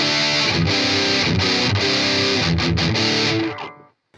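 Electric guitar through a Harley Benton Extreme Metal distortion pedal with distortion, high and low all maxed, producing a loud, heavily saturated chugging riff with choppy stops, then fading to silence.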